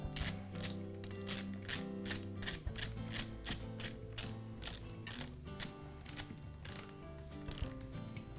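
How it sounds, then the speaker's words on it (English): A torque wrench ratchets in rapid, evenly spaced clicks while tightening the head bolts on a Porter Cable air compressor during a cylinder kit repair. Handling and clanking noises are heard between the clicks. "I'll torque the head bolts to between 49 and 55 inch-pounds of torque"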